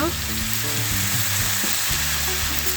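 Pieces of ash gourd fry to brown in hot oil for a sweet murabba, giving a steady, loud, close sizzle with a few soft stirring knocks throughout.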